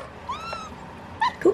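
A domestic cat meows while being fed, giving a couple of short, mid-pitched meows close by with quieter gaps between, then a sharper louder meow at the end.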